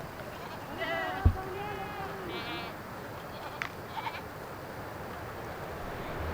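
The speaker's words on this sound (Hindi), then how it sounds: "कोई 300 से 400 बकरी होगी" A large herd of goats, some 300 to 400, in a mountain village in Gilgit-Baltistan, bleating in a few scattered calls at moderate distance over a soft outdoor background, with someone talking.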